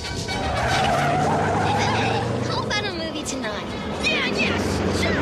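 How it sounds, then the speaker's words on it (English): A car brakes hard and skids, with squealing tyre screeches and a steady engine rumble in a cartoon scene, while voices talk over the noise. "I'm putting my foot on the brake"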